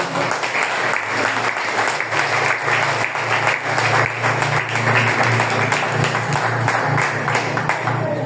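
A church congregation claps in praise to God during a sermon on divine healing, steady dense applause filling the room for several seconds over a low hum, no voices above it.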